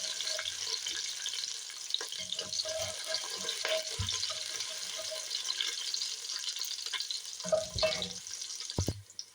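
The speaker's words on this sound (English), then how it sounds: "get the oil nice and tasty with the onions and the garlic" Onions and garlic frying in oil, a steady bright sizzle running throughout with a few soft stirring clunks and knocks, close and alone with no talk.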